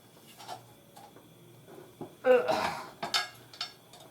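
Heavy solid steel lid of a pressure canner being worked loose and lifted, with light metallic taps and clinks followed by a louder scraping clank and a couple of sharp knocks, close by.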